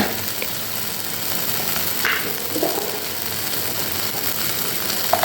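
Ground cumin and coriander spices fry in a hot pan with oil for a fish curry, a steady close sizzle with occasional crackles and faint stirring scrapes, no voices.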